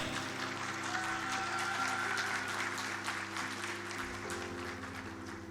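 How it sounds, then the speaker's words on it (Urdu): A large audience at a corporate dinner claps loudly and steadily for several seconds, with a low musical hum underneath the applause. "آپ لوگوں کی بھرپور تالیاں ہونی چاہیے"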